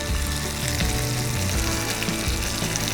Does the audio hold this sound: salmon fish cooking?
yes